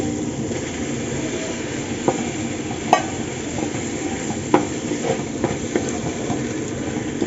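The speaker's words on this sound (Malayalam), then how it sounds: "ഇനി തക്കാളിയൊക്കെ ഒന്ന് ഉടയണ വരെ നമുക്കൊന്ന് വഴറ്റി കൊടുക്കാം" Chopped tomatoes for beef biryani are sautéed and stirred in a pan, giving a soft, steady sizzle throughout with scattered scraping clicks from the spoon.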